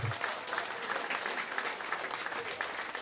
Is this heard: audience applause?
yes